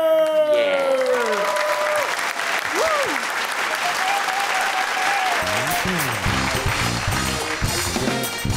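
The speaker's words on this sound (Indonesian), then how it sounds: "Hadirin sekalian, berikan tepukan gemuruh" Applause rises from the studio audience of a Malay variety show, a dense steady patter, while a voice speaks over it at the start before music enters partway through.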